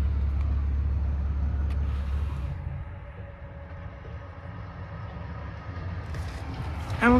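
A 2022 Ram 2500 Laramie Crew Cab 4x4 Cummins turbo diesel idles with a deep, steady rumble, then shuts off about two seconds in, leaving quiet ambience and a faint click at the end.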